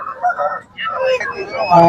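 A chicken clucks and squawks in short bursts, close by at a livestock market, with a voice murmuring alongside.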